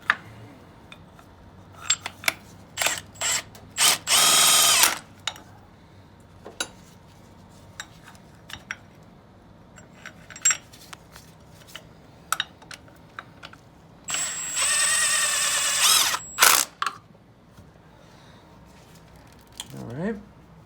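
Bracket bolts on an accessory drive belt tensioner are tightened with a power tool, two loud whirring bursts under scattered clicks, taps and metallic handling of tools and parts, with someone talking intermittently nearby.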